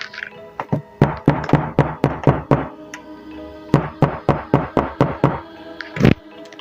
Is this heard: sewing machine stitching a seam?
no